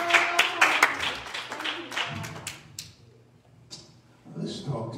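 Church congregation at a Bible study claps their hands: a burst of sharp, close claps over the first two seconds, then fading, with voices talking and murmuring afterward.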